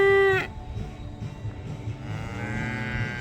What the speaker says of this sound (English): now they're mooing